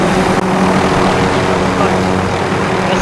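Helicopters in the video game Warzone give a loud, steady rotor and engine drone that fills the scene without a break.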